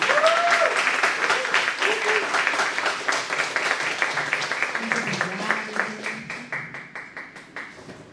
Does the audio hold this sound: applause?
yes